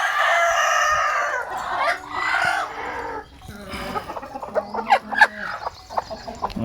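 Chickens and a rooster in a backyard coop, with clucking, a crow and scattered squawks nearby, rising and falling in bursts.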